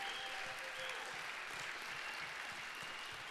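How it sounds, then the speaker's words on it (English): Audience applause for moms at a church gathering, a dense, steady clapping from a crowd that continues evenly throughout without pause. "Can we give them a round of applause?"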